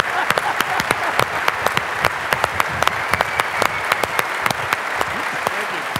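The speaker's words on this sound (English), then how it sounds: "join me in a warm round of applause" Warm applause from an audience at a tribute event for Paul Stephen Stone, dense and steady with crisp individual claps standing out near the front, continuing unbroken for several seconds without voices.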